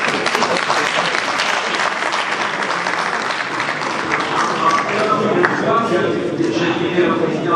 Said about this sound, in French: Je dirais au président Macron les applaudissements que vous venez